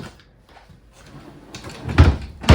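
Drawers in a 2023 KZ Durango 326RLT RV kitchen sliding and shutting, soft rubbing at first, then two sharp knocks near the end, close to the microphone.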